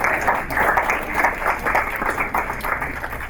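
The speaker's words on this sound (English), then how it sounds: "I want you guys to give them a round of applause" A round of applause from the audience at a teen summit for the young hosts, a steady wash of many hands clapping at moderate volume through the whole stretch, muffled and slightly distant with no clear speech.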